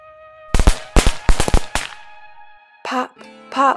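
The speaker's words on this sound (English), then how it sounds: "Do you hear the firecrackers?" Firecrackers pop for a Chinese New Year celebration in a rapid cluster of sharp cracks over a sustained musical tone, followed by a short pause and then brief voice-like sounds.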